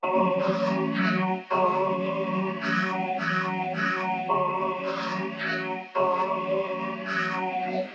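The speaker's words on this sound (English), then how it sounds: "that sounds like that demonic noise is saying, "Oh my God."" A dense, distorted droning sample, chopped and reversed, loops in chopped bursts, its garbled, voice-like syllables repeating with abrupt cuts, loud and continuous with no actual talking.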